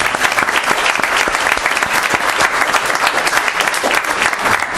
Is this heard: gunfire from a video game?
no